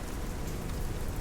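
Heavy rain drums steadily on thin metal, a dense, even hiss of countless drops with no gaps, fairly soft and continuous.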